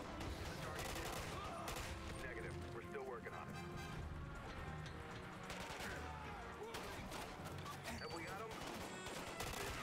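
Gunfire bursts and rapid shots from the video game Splinter Cell crackle throughout a busy, dense game soundtrack, with a voice speaking over the action.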